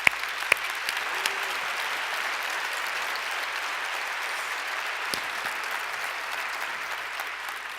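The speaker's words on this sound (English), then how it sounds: "I think we owe her a large round of applause." Sustained audience applause fills the room for several seconds, a steady dense wash of clapping at moderate level with a few sharper claps standing out, no talk over it.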